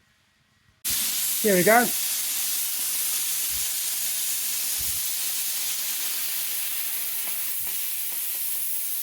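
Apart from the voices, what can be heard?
air compressor drain valve opened, releasing air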